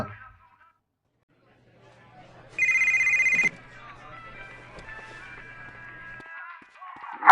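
A telephone rings in the video game GTA Vice City, one clear burst of electronic trilling lasting about a second amid quiet game ambience and faint footsteps.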